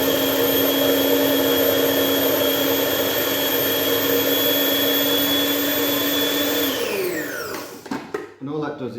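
A food processor blends bread alone in a kitchen with a loud, steady whirring drone that winds down abruptly near the end.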